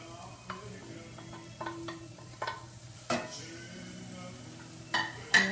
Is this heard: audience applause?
no